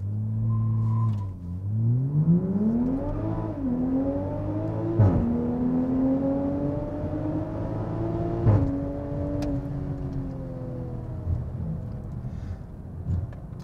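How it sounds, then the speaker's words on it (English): A Toyota Supra's B58 engine revs up on launch control and accelerates hard through several gear shifts in a tunnel, the droning pitch climbing and dropping again, loud and sustained with a roaring rumble. "let's do a little launch control at the tunnel here."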